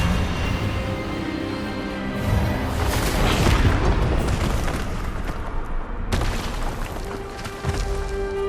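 A loud magical spell blast from the Hogwarts Legacy video game, the Expelliarmus disarming charm, swells into a roaring boom. A second sharp burst hits later, over a faint game music bed.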